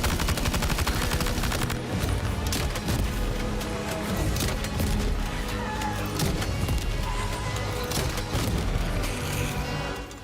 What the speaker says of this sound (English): Lightweight assault rifle.